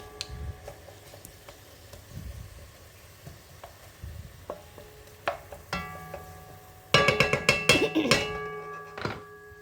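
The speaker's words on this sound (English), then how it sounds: "Stir them in." Onions and garlic sizzle in a pan while a utensil taps and scrapes through them, the clatter growing louder and busier toward the end as the stirring picks up.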